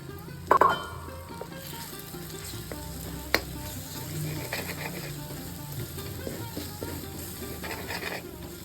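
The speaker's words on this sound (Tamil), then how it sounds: "மசாலா தூள் மிளகாத்தூள் இதெல்லாம் சேர்த்து ஒரு ரெண்டு நிமிஷம் வதக்கினா போதும்" Tomatoes frying in a pan with chili powder and garam masala for a raw banana kurma, a steady low sizzle with occasional stirring scrapes and a sharp clink near the start, close and continuous.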